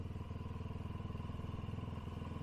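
A BSA Goldstar motorcycle engine drums in a fast, steady pulse at high revs, close and fairly loud with nothing else over it.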